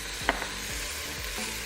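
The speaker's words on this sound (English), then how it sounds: "All right, I'm just going to mix around." Garlic is stirred in a hot Instant Pot, with a steady sizzle of frying running throughout and a few soft scraping strokes from the utensil.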